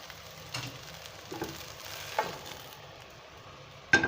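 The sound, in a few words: okra being stirred into spiced onion masala in a pan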